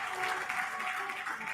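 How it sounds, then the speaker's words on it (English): An audience at a domestic air cargo business session claps for the silver sponsors: a dense, brief burst of many hands clapping together, fairly close and even in loudness throughout. "I think we can clap for the silver sponsors."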